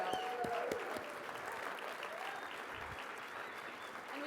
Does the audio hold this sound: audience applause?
yes